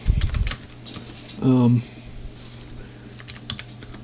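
Fingers type at a computer keyboard on a TempleOS command line, producing scattered close clicks and key taps, with a brief hum-like voice sound in the middle.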